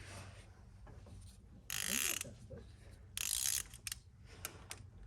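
A ratchet cranks on warm thermostat housing bolts on a second-generation Dodge, two quick bursts of loud clicking separated by a pause, with quiet shuffling in between.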